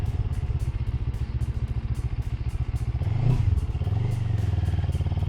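A 74-horsepower beginner motorcycle rides along with a steady engine drone, rising briefly as the rider gets on the throttle, then settling back to a constant hum with regular clattery pulses throughout.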